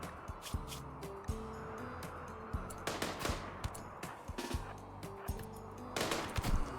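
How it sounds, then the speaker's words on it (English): Gunfire in the video game RimWorld: scattered sharp shots and short bursts crack out over a steady stepped musical score, some louder and nearer, others lighter, with no talking. "Do I hear guns?"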